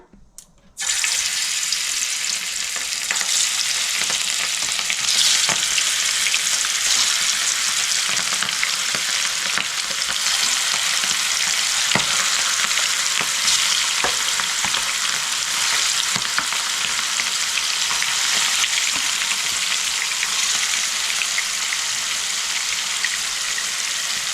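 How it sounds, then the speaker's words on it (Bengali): Shapla Pata (shankar) fish pieces, rubbed with salt and turmeric, frying in hot oil over a lowered gas flame: a loud, dense, continuous sizzle that erupts suddenly after a brief quiet start and holds steady throughout. "আমি এখন এক এক করে দিয়ে ভেজে নেব।"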